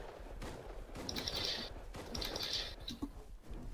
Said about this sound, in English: Careful, don't shoot your gun.